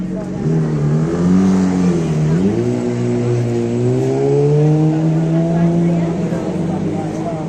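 A motorcycle engine revs loudly and steadily on a crowded Barcelona street, its pitch climbing and holding, with people talking over it.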